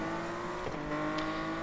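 A car launching off the line in a Need for Speed drag race, a steady, droning engine note that holds its pitch without clear revving changes.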